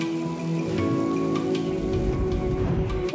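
Steady rain pours down outdoors, a dense continuous patter of drops on surfaces, close and loud with no voices.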